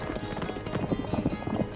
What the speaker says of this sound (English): That is a horse.